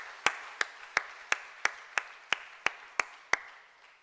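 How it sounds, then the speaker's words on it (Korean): Slow, evenly spaced claps, about eleven single strikes over four seconds, from a church congregation at a Sunday morning service celebrating young children, moderately close with no talking. "따뜻한 박수로 우리 축하하겠습니다"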